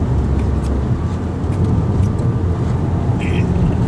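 A new Renault Scenic accelerating in sport mode gives a steady, loud low engine and road drone inside the car, continuous throughout.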